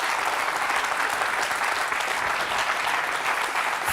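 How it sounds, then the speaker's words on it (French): A live hypnosis show audience claps steadily for the volunteers, a dense, loud, continuous applause that fills the room from start to finish. "Nathalie et Gérard, on peut les applaudir."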